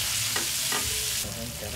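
Garlic, onion and tofu sizzling in hot oil in a pan, a steady bright frying hiss with a couple of brief stirring scrapes and a louder surge near the end.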